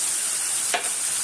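Ground coriander, turmeric and Kashmiri chilli tipped into a hot frying pan for an aloo dum curry: a steady sizzle of oil throughout, with one brief scrape of stirring near the middle.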